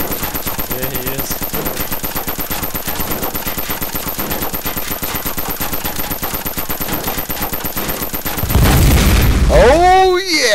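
Rapid automatic gunfire rattles continuously in the DayZ video game before a gas station explodes in a loud, booming blast with a rising, whooshing tail near the end.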